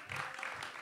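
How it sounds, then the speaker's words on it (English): An audience applauds at a school music show, giving brief, faint, steady clapping heard from a distance. "gonna get a round of applause for Ellie and Callum Bates."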